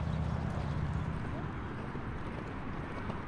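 A horse walks on the footing of a riding arena at an equestrian club, its hooves clip-clopping in a steady, soft rhythm under a constant background wash, with a voice talking at moments.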